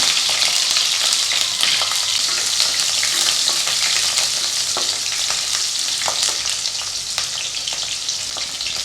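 Peeled small shallots frying in hot oil for a spicy bean curry, a steady dense sizzle with occasional scraping stir strokes, close and continuous throughout with no talking.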